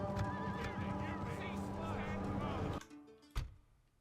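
A horse neighs loudly several times over rumbling hooves and battle noise in the Third Age: Total War video game, then the din cuts off abruptly, leaving a brief sharp thud.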